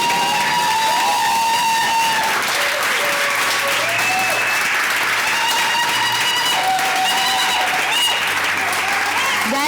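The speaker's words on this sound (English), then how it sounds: "give a round of applause for our esteemed panelists" An audience at a Hall of Fame induction applauds the panelists, sustained loud clapping with cheering throughout while a voice talks over it and music plays faintly behind.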